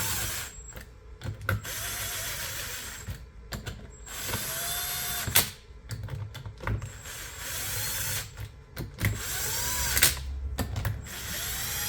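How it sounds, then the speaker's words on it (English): An impact driver runs bolts in on a GX5, giving repeated bursts of whirring and hammering that stop and start over steady background noise, close by and without voices. "I'm only going to use an impact just to get the bolts closer to the body."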